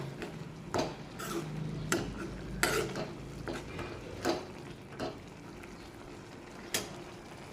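Chutney and salt being mixed in a bowl: soft, quiet stirring scrapes with repeated light clicks and taps of a spoon against the bowl, spaced irregularly over a faint background.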